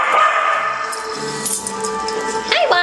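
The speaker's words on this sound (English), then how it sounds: "Here's the little dog. The littlest little dog." A small dog gives short yips and whimpery barks nearby, mixed with a person speaking over it in a home setting.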